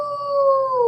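A voice imitates a coyote howl, one sustained clear tone sliding slightly downward in pitch, loud and close with no other sound behind it.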